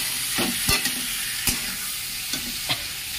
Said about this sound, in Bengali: আর এখানে ডাটা, আলু, পেঁয়াজ, টমেটো দিয়ে সব এতে ভাজছি